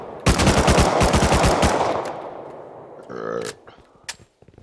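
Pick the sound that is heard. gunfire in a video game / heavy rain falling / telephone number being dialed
gunfire in a video game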